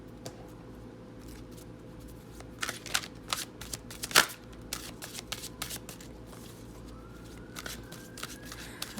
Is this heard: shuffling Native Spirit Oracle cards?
yes